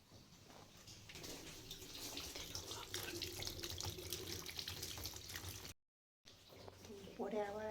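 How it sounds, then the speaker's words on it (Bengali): Tap water runs continuously into a basin while clothes are washed by hand at home, a steady close splash with a brief break near the end and a voice speaking faintly over it. "এই দেখো মা, আমি এখন কাপড় চোপড় ধোবো"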